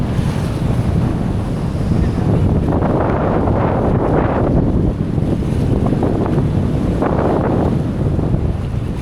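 Strong wind roars and buffets the microphone at Alegria Beach Resort, a continuous loud rush mixed with surf washing ashore, no voices.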